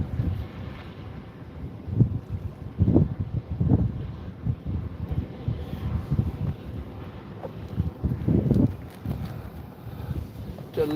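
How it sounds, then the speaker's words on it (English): Wind gusts outdoors at a fishing spot, buffeting the microphone in uneven low rumbles and bursts throughout. "it's a little breezy, a little chilly, but not too bad"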